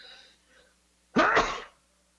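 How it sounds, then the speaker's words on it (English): A single sharp sneeze bursts out close up after a brief faint sound, then silence. "I'm going to sneeze."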